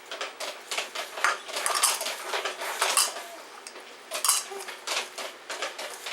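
Spoon clinking and scraping around a bowl while white granulated sugar and salt are stirred into melted butter for bread dough, a steady run of close, busy metallic taps and scrapes with no talking.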